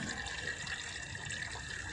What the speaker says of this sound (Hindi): उसी हिसाब से ये पानी ले लेगा हमारा कपड़ा जितना है